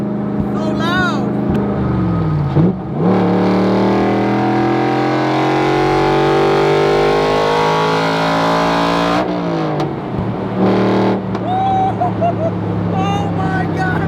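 A 600-horsepower Coyote-swapped Shelby Daytona roars loudly up close, its engine note rising through long pulls with gear changes between, while a person exclaims over the noise.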